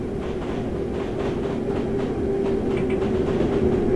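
London Underground District line train arriving in a train simulator game: a steady rumbling roll with a sustained tonal hum and faint rhythmic clatter, building slightly louder as it approaches, no voices.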